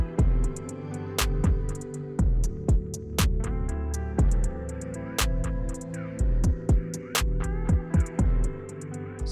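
A home sewing machine stitches a sleeve seam on a long-sleeved A-line maxi dress in a series of short bursts, each run of the needle starting and stopping with sharp clicks between them, close and fairly quiet.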